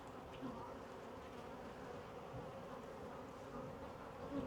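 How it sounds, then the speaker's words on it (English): Agitated honeybees swarm around an opened hive, making a steady, dense buzz that fills the air close by and never lets up, with no voices over it. "Bees are getting agitated with me."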